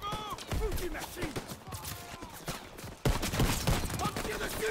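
Gunfire in the World War II shooter Call of Duty WWII, a busy spread of rapid shots and impacts running throughout, louder after a sudden jump partway through, with voices talking over the battle.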